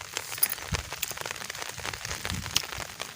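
Drizzling rain during a wet spell, a soft scattered patter of drops on surfaces with occasional sharper taps, fairly quiet and continuous.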